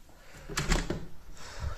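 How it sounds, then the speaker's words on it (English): A door opening onto a very small outdoor balcony, with a short burst of handle and latch clatter midway followed by a soft low thud, heard close in a quiet indoor room. "I'll just open the door and show you this."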